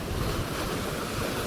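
Sea waves washing in at Dumas beach, a steady close roar of surf with wind rushing across the microphone, continuous and loud, with no voices.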